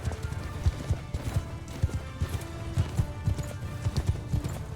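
Horses walk across hard-packed snow in the Mount & Blade II Bannerlord video game, a steady stream of overlapping muffled hoofbeats with an occasional soft snort.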